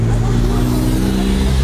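Cars revving at a night car meet with an FBO Infiniti Q50 and BMW 340i around, a steady loud engine drone with low rumble throughout, crowd chatter faintly underneath.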